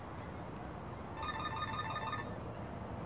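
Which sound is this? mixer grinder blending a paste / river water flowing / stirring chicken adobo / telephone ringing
telephone ringing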